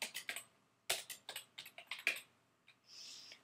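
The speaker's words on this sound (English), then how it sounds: "I'm going to type Wrigley Field." Typing on a computer keyboard, with a quick uneven run of key taps, a brief pause, then more taps and a short soft rustle at the end, close and clear with no voices.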